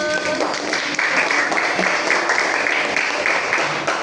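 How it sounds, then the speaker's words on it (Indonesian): Classroom applause for a pupil who answered correctly, a steady burst of many small hands clapping close by for about four seconds, with a faint voice near the start. "Tepuk tangan untuk Ajus."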